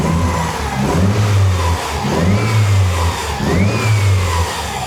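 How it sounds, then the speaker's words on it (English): A Mitsubishi Evo 9 wagon engine with an aftermarket turbo idles roughly up close while cold, its low rumble surging and dipping in an uneven, lumpy rhythm, with no talking. "Wait till this thing warms up and it gets the lumpy idle."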